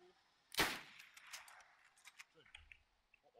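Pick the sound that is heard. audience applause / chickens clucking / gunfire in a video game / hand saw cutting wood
gunfire in a video game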